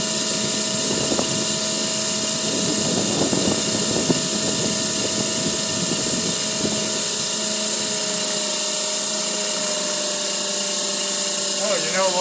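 An electric motor spun by a rotary phase converter in a workshop gives a steady high-pitched whine and hum, with rattling clunks early on and a voice talking over it.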